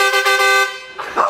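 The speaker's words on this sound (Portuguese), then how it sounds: "Siga só na buzina do trem do Gilmar." A loud, close horn of a tourist train in Caldas Novas blares once for about half a second, a bright harmonic honk, followed by brief noisy shuffling.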